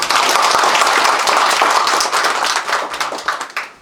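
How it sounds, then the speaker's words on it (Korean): Villagers gathered in a rural Korean village give a mayor a welcoming round of applause. The clapping is loud and dense, then thins into scattered claps before it ends. "박수 한번 드릴게요."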